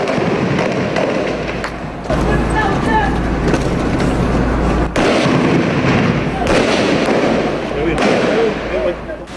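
Rapid gunfire crackles and pops during fighting in a city held by Maute militants, dense and fairly close, with talking over much of it.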